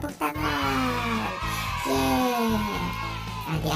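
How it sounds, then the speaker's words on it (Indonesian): Children at a Sunday school service cheer and yell loudly and steadily for several seconds in an indoor crowd, with harmonic whoops riding over a dense wash of noise. "Tepuk tangan."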